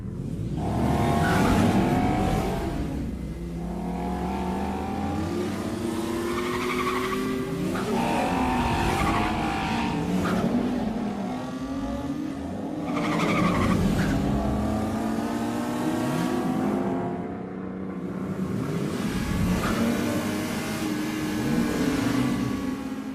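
The first-ever BMW M2 drives hard, engine revving and rising through gears while tires squeal and skid in long sweeping passes, loud and close throughout.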